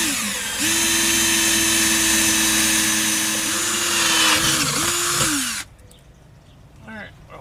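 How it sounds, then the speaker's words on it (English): A power drill bores holes in an RV frame while a Valterra EZ-Hose sewer hose carrier is installed: a loud, sustained motor whine runs for about five seconds, dips briefly, then cuts off, leaving a quieter background. "And then I'll go ahead and I'll drill those holes out."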